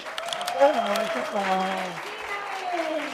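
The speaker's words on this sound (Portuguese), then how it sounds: "uma salva de palmas, Alexandra Cassoni!" An audience applauds to welcome a guest on a podcast, a continuous round of clapping under overlapping voices and cheering.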